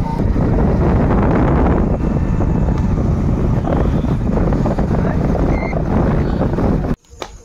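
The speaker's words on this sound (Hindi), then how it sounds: "बहुत तेज हवा लग रहा है ना, ठंडा ठंडा" Strong cold wind blows outdoors at night in a village during a Ramlila festival, a loud, steady roar buffeting the microphone for several seconds before cutting off abruptly near the end.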